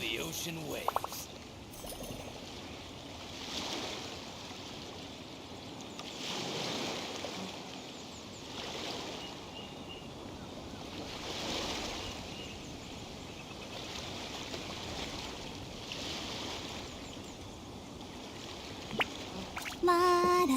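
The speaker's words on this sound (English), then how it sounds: "The sound of the ocean waves." Ocean waves in Genshin Impact roll in slow, regular swells about every two to three seconds, a soft, steady surf wash that continues throughout with a faint voice or game sound at the very end.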